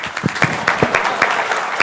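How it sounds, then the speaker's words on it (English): An audience at a telecom conference claps for a panel, a short burst of brisk, scattered hand claps in an indoor hall that is close and fairly loud. "Do we not get a clap?"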